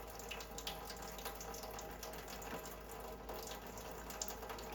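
Hot soapy vinegar water runs steadily through equipment used for canning poultry stock, a continuous close rushing flow with small clicks and splashes, no voices.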